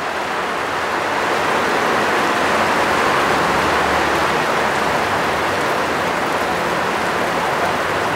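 Dense, steady hiss of heavy rain pouring down outdoors at a roadside work site, a uniform wash of noise with no gaps and no voices.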